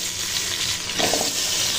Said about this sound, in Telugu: ఒక పెద్ద సైజు ఆలుగడ్డ ముక్కలు వేస్తున్నాను నేను